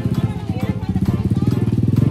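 A motorcycle rolls past close by, its engine giving a loud, steady, rapid putter throughout.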